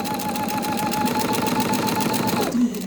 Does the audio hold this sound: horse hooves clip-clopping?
no